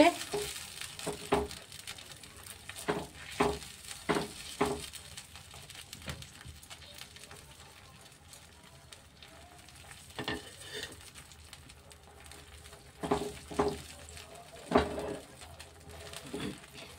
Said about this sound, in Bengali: একটু ফুটু তো ভালো করে নাড়তে হবে, নাহলে জমাট বেঁধে যাবে, যেহেতু কর্নফ্লাওয়ার দেওয়া আছে